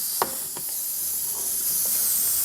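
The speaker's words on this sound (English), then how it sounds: "I'm going to connect the supply from my air compressor right here." Compressed air hissing loudly and continuously from an air compressor supply line being connected, with a few faint clicks near the start, close and steady.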